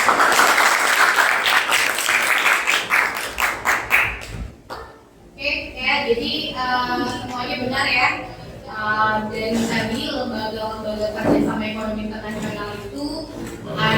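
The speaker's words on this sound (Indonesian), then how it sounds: "tepuk tangan dong" A classroom audience claps at the start, a dense burst of applause lasting about four seconds before it fades, followed by a teacher and children talking.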